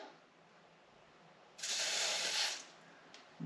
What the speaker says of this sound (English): Put a little bit of silicone spray on the clamps, a little bit over the end of the lines.